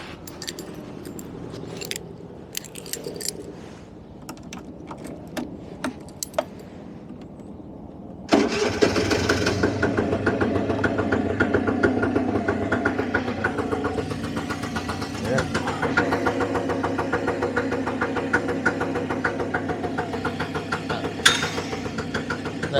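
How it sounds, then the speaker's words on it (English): A 1983 Honda Stream/Gyro scooter engine cranks and fires, then settles into a steady, fairly loud idle that runs continuously, with scattered clicks and key jangling before it catches. "so we'll go for one more start"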